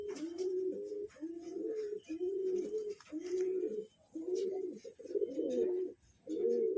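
Jamuni Panja pigeons coo over and over close by, with a steady run of low, rolling coos broken by brief pauses.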